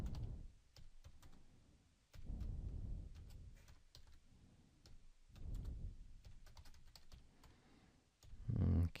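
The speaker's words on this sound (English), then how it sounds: "I'll just type some names." Names being typed on a computer keyboard, with bursts of quick, close key clicks separated by short pauses and a slightly louder clatter near the end.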